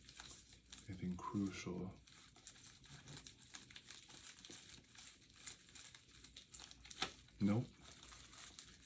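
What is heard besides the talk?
tarot cards being handled and checked through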